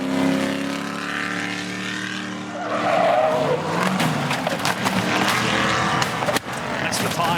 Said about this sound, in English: That's the tyre exploding as it comes down, that pop at the end